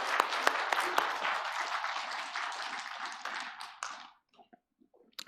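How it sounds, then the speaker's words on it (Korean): A church congregation at a Christmas Day service gives a round of applause, with sharp individual claps at first, then a dense burst that thins out and stops around four seconds, followed by a few scattered claps. "다 같이 하나님께 영광의 박수 한번 드리겠습니다"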